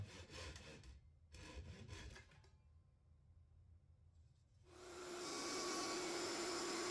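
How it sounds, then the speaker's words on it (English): An old handsaw works through wooden blanks in rough rasping strokes, with two short bursts and a quieter pause, then a loud, steady whooshing roar that takes over near the end. "I'm finishing up separating these blanks from each other using the old handsaw"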